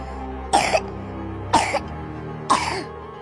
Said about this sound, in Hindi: बच्चे ने जोर से खांसना शुरू किया।